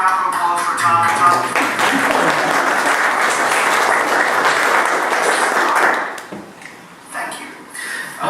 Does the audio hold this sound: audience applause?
yes